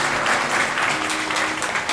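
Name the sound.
congregation clapping hands in church worship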